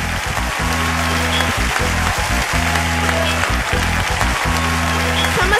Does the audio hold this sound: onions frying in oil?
no